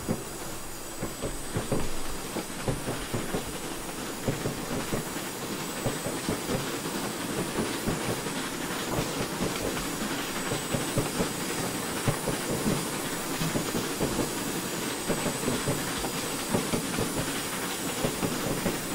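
An LNER J50 steam locomotive runs in Train Simulator 2016 on the West Highland Line Extension. The sound is a steady chuff and hiss with rhythmic wheel clatter. It stays loud and continuous throughout, with no talk.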